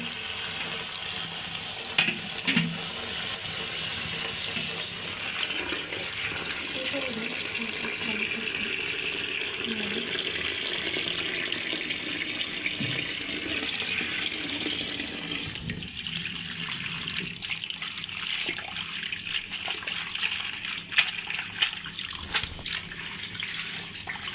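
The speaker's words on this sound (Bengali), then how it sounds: "সর্ষের শাকটা এখন ধুয়ে নিচ্ছে আপনাদের আপু" Mustard greens are rinsed under a running kitchen tap, a steady splashing gush of water with shifting spatter as the leaves are handled, carrying on for the whole stretch with little talk.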